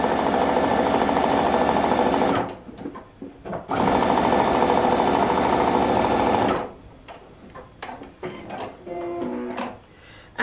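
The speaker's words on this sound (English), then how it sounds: "Hold it in place, goes under, and then continue to sew." A sewing machine stitches quilt strips in two long, loud, steady bursts of rapid needle clatter, separated by short pauses with small handling clicks and rustles.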